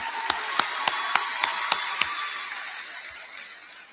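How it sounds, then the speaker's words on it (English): Rhythmic clapping at a high school graduation ceremony: seven sharp, evenly spaced claps close by, then fading into a softer spread of scattered applause from the crowd. "Give them a big round of applause."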